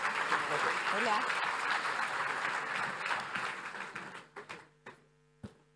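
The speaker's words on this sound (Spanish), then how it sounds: "Un aplauso, por favor." A conference audience at an eCommerce Day event in Santiago applauds as presenters are called to the stage; dense, steady clapping fills the room, then thins out into a few scattered, isolated claps before stopping.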